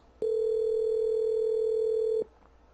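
Steady outgoing-call dial tone from Cisco Jabber, a single continuous electronic hum lasting about two seconds, loud and clean with no talk over it, starting and stopping abruptly.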